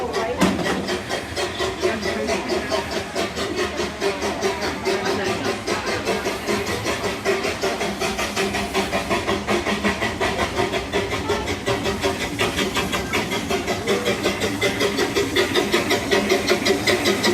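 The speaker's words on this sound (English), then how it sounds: "the next train is already coming around the corner here" An amusement park train at Hersheypark's Christmas Candylane rolls in with a steady hissing, rumbling mechanical wash that holds constant and swells slightly toward the end, with no one speaking.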